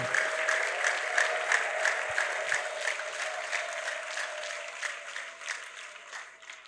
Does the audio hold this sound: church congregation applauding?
yes